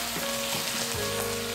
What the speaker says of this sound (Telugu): పుదీనా వేగిన తర్వాత ఇందులో ఇప్పుడు మెంతి ఆకులు వేసి